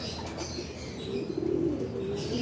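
Pigeons in an aviary loft give low, steady cooing calls, with a brief rustle of flapping wings, close and moderately loud with no talking.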